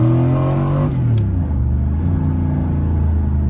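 A V8-swapped Pontiac Fiero running a Holley Sniper fuel injection accelerates hard with a loud, steady engine roar and a brief tire spin, and the drone shifts pitch as it pulls close by.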